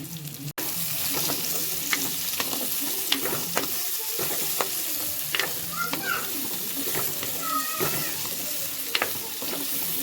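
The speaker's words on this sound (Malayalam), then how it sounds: "ഞാൻ അതിനകത്തോട്ടേക്ക് അരിഞ്ഞ് വെച്ചേക്കണം സവാള ഇട്ട് കൊടുക്കുന്നു." Chopped onions for a cauliflower curry sizzle steadily in a hot pan, a continuous close frying hiss broken by scattered crackles and pops from stirring.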